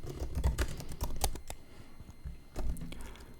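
A computer keyboard clatters in quick bursts of keystrokes as a command is typed. The nearby taps come in two clusters with a short pause between them, and no one speaks.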